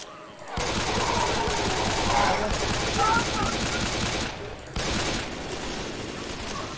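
Sustained automatic gunfire in Left 4 Dead 2, a dense, continuous rattle of shots that briefly breaks off and resumes, loud and near, with voices chattering over it.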